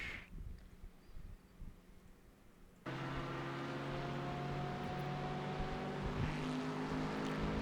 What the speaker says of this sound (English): There comes the Porsche.